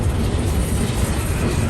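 Rumble of an INRD freight train with Geep locomotives at the Palestine, Illinois rail yard, a steady loud low drone with faint clickety-clack running through the whole stretch and no talk.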